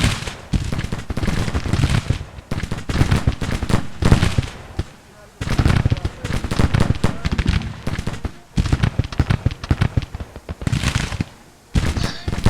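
Cannon fire in the Grand Tactician Civil War strategy game, heavy booms and crackling volleys of gunfire rolling repeatedly across the battle, loud and dense, mixed with bursts of musketry.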